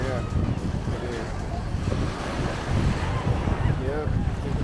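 Ocean waves washing onto a Miami beach, a continuous rushing surf with gusty wind across the microphone, while people talk close by.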